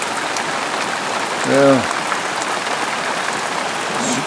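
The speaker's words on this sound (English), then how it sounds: "It is really raining." Heavy rain pours down during a thunderstorm, a steady, loud, dense hiss throughout, with one short spoken word from a person partway through.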